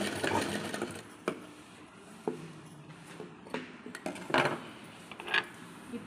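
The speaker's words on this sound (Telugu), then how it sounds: "డబుల్ స్టిచ్ చేసుకోవాలి." A sewing machine running a double stitch, with a fast mechanical whir broken by clicks and clunks of handling and adjustment across the stretch.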